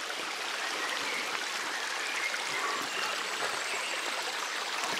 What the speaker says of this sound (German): muss ich diesen Fluss überqueren?